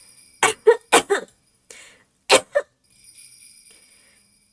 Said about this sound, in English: I kept laughing until it turned into a cough.